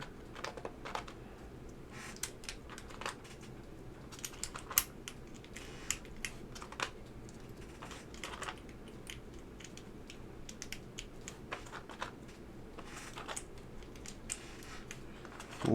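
Rapid keystrokes on a newly built Vertex Intro S100 mechanical keyboard, a steady stream of crisp, close clicks and clacks with uneven rhythm and occasional louder hits, with no talking.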